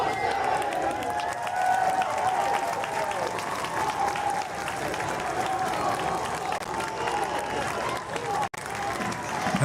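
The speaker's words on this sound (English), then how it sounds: "It's a loud crowd here at Osinga Field in Crestwood" Crowd cheering and clapping at a high school baseball game at Osinga Field in Crestwood, a broad steady roar from many spectators heard from within the stands.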